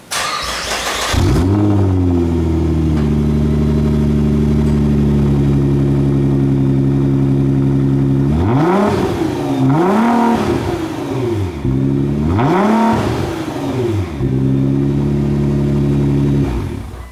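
A 2018 Honda Grom 125cc fitted with a Two Brothers exhaust starts and settles into a loud, steady idle, then revs sharply in several quick bursts with pauses between, heard close up.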